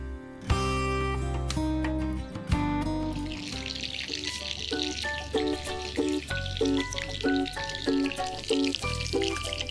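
Battered food fries in hot ghee, a steady hissing sizzle that sits under louder background music.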